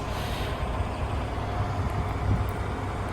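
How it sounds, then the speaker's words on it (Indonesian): Foothill transit bus idling at El Monte Station, a steady low diesel rumble with broadband hiss and faint higher hisses from air brakes, close and continuous. "bus Foothill ya namanya Foothill."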